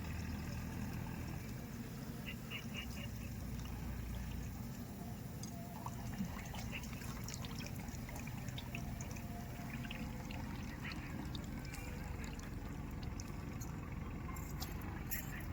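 Rice is washed by hand in water for a traditional pulao, with continuous sloshing and swishing close by over a steady rushing background, occasional light clinks scattered through.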